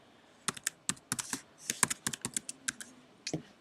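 Fingers type on a computer keyboard, a quick irregular run of close, crisp key clicks with brief pauses.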